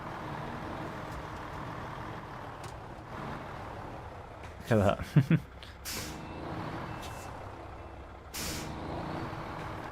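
A truck in the video game Snowrunner makes a three-point turn and reverses, its engine droning steadily while sharp air-brake hisses and clunks cut in midway. A voice speaks briefly over it.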